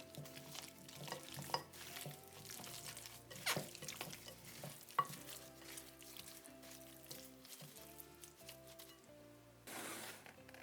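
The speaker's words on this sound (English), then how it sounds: "Add the marinade. Mix well." Wet stirring and squishing of chicken being mixed with marinade in a bowl, soft and close, with light clinks, over quiet background music.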